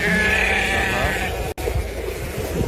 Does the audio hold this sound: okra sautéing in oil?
no